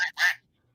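A duck-quack sound effect played during a live interactive stream: two short, nasal quacks in quick succession, the second longer and louder, then silence.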